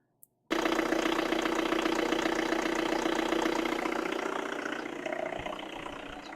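A car engine on a weak battery with low cranking amps catches abruptly and settles into a steady, loud, close idle that hums on evenly, fading slightly toward the end.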